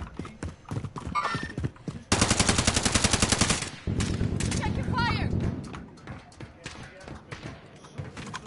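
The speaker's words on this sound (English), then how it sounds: "I'm shooting at the fucking four-wheeler." Rapid automatic gunfire in Call of Duty Warzone Resurgence, loud sustained bursts of dense rhythmic shots with scattered single reports before and after, mixed with game effects and voices talking.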